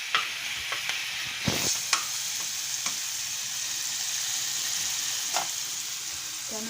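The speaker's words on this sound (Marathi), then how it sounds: "आपलं तेल गरम होतंय, त्यात मी हे हिरवी मिरची टाकते।" Green chillies hit hot oil with a steady, bright sizzle for idli-vada cooking, punctuated by a few sharp spoon taps and scrapes against the pan, with no voices.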